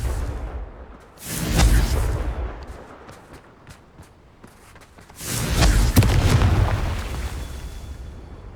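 Two heavy, booming blasts of the Confringo fire spell in Hogwarts Legacy, each a rumbling burst that swells and fades over about a second or two, with scattered crackling between them.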